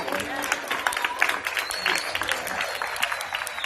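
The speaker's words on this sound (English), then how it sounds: "Only need to clap." A dense patter of audience clapping, steady and fairly loud across the whole stretch, with crowd noise mixed in.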